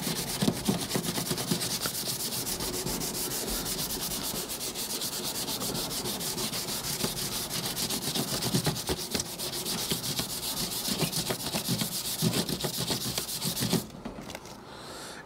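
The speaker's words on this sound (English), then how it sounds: "I'm just going to kind of smooth this around here with some really, really high fine grit sandpaper." Fine grit sandpaper rubbed by hand over a part on a vintage Datsun 521 pickup, a steady close scratching hiss with rhythmic strokes that stops near the end.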